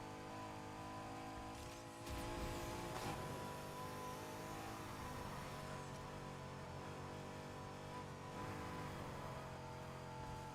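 A Mercedes-AMG GT engine in Need for Speed Heat hums steadily at moderate volume and revs up briefly in surges, with a continuous layered tone and no speech.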